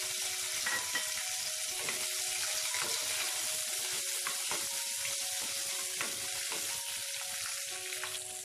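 Shallots and green chillies fry in a pan of oil for roadside-style vegetable salna, giving a steady, close, continuous sizzle with scattered crackles and small clicks and no talking.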